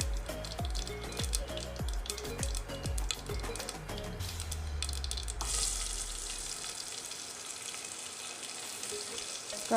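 Cumin seeds frying in hot oil for dal khichdi, a soft sizzle following several clattering knocks of a utensil against the pot, then a steadier hiss that fades toward the end.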